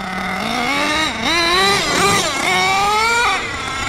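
An HPI Racing Savage X4.6 nitro RC monster truck screams nearby with a high-pitched two-stroke whine, its revs rising, dipping and climbing again through shifts of its two-speed transmission, loud and alone.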